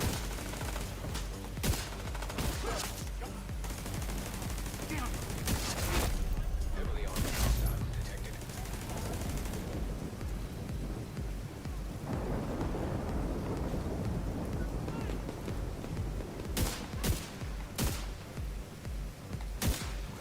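SVD sniper rifle shots in the game The Division 2 come as sharp, heavy reports in small clusters over a dense rumbling din of battle. A voice talks throughout.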